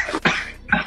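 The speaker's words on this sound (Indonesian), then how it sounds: "Jadi batuk gue." A few short, harsh coughs in quick succession, close by, with a brief pause between bursts.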